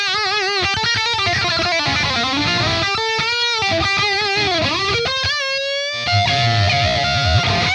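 Heavily distorted electric guitar through a Fortin Nameless Suite amp with a darkly placed cabinet mic, played loud and alone in chugging riffs, sustained bends and ringing high notes.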